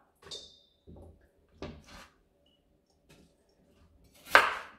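A knife chops a sweet onion into quarters on a cutting board, producing about five separate dull thuds and knocks spaced apart in a quiet setting, the last one loudest, with no talk.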